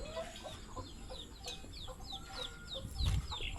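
Chickens on a Thai village farm where goats are also kept cluck in a rapid repeated series, close and moderately loud, with a brief low thump near the end and no talking.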